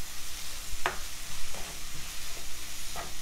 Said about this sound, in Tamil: இப்போ இதை வந்து நல்லா பச்சை வாசம் போகிற வரைக்கும் வதக்கிக்கலாம்